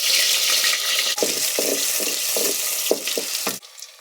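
Crushed onion and garlic frying in oil in a pot, a dense hiss of sizzling broken by a series of short scraping stirs, before the sound drops away at the end.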